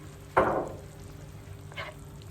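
Homemade tomato paste tipped all at once into a pan of onions fried until pink, giving a sudden loud sizzling burst that fades over about a second, then a softer second hiss of frying.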